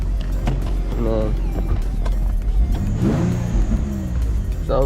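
An Infiniti G35 sedan's engine runs steadily with a low, continuous hum and a brief rev near the end, while people talk over it close by.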